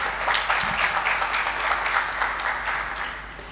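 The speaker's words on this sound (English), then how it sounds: "Des applaudissements, s'il vous plaît." Steady audience applause fills a hall at an annual academic coaching event, a dense wash of many hands clapping throughout and tapering slightly at the end.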